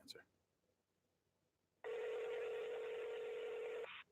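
A single long ring tone sounds during an outgoing phone call, a steady electronic burst of about two seconds following a near-silent pause, with a brief faint noise at the very start.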